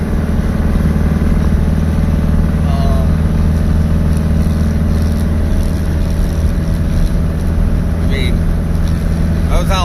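A Baja car with a 2276 engine and Weber IDF 48 carburetors roars close and loud, its dense engine drone holding steady throughout, heard from inside the car.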